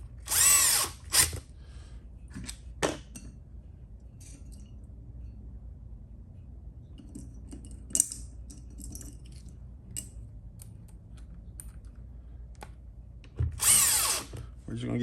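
A power drill drives screws into the front bumper of a Traxxas Bigfoot X-Maxx monster truck during reassembly, short whirring bursts at the start, middle and end separated by quiet handling noises.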